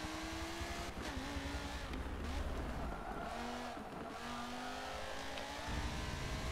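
A race car engine in Forza 7 revs and drones with shifting pitch, mixed with tire noise, steady and fairly close throughout.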